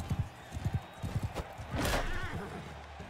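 A horse in the medieval combat game Mount & Blade II: Bannerlord thuds along in a quick run of hoofbeats, then lets out a long breathy whinny, fairly faint, with game ambience under it.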